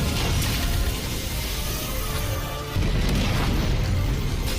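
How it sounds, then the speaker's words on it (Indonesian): A huge, nuclear-scale explosion from a fantasy cultivation battle after a demonic finger strike, heard as a dense, loud roar of blast and rumble that dips briefly near the middle before surging back at full force. "Terciptalah ledakan begitu besar sedahsyat nuklir dan Wang Lin berhasil menghilangkan jebakan"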